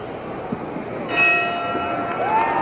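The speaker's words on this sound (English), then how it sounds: "The bell for round one." A boxing ring bell sounds for round one of the Muhammad Ali vs Buster Mathis fight, one clear ringing strike that lingers over the low murmur of an arena crowd.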